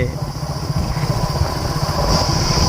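A motorbike being ridden into a sal forest, its engine a steady close drone throughout with a constant high whine on top.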